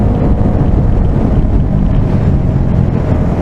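Wind roars steadily into the microphone of a rider on a Bajaj Dominar 400 motorcycle, a loud, low, constant buffeting rush with no voices.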